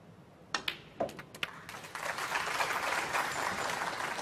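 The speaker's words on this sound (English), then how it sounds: "Nice appreciation from the crowd." A few isolated claps ring out in a snooker hall at a match between Ronnie O'Sullivan and Matthew Selt in Xi'an, then build into steady, fairly soft applause from the crowd.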